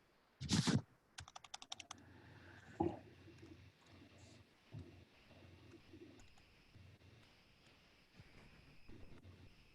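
Quick bursts of typing on a computer keyboard, close and crisp, followed by quieter scattered key taps over a soft room background with no talking.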